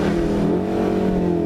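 A Volkswagen Golf R with a manual gearbox revs hard while held for a launch, a loud, steady, close engine drone at high rpm.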